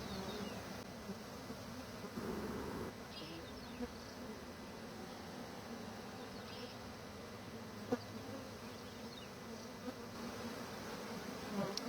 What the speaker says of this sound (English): there's so many bees here